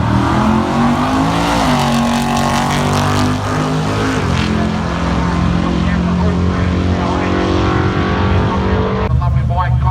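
A drag race car with about 1,000 horsepower and a Pro Glide transmission roars loudly down a street drags strip, engine tone climbing and shifting steadily while an announcer talks over it.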